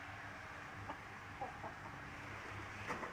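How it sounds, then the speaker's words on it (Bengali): Two household chickens cluck softly close by, a few short low clucks over a faint steady background hum. "আপনাদের কাছে আমাদের বাড়ির এই মুরগ দুটা কেমন লাগে"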